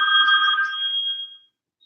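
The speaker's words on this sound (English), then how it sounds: "Sorry about that, getting a random phone call." A phone ringtone sounds for an incoming call, a single loud, clear electronic tone held for over a second before cutting off abruptly into silence.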